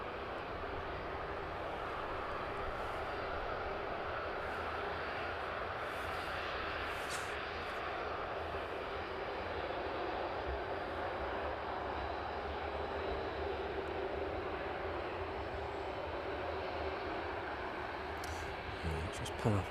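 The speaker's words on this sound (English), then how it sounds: "Just pan off that 757 and catch the West Atlantic as that taxis on to stand for the evening as well." Continuous loud engine roar from airliners taxiing to stands on an evening at East Midlands Airport, including a Boeing 757 and a West Atlantic aircraft, steady throughout with a voice talking over it.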